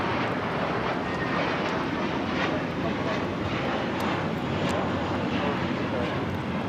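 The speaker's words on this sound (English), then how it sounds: "This is American Airlines 2091 taking off to Dallas-Fort Worth on the A321." An American Airlines A321 taking off for Dallas-Fort Worth fills the air with a loud, steady broadband jet roar that holds constant throughout, with faint talk underneath.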